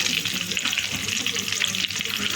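Onions sautéing in a pan for a Tamil tomato gravy, giving a dense, steady close sizzle with faint stirring scrapes and no talk.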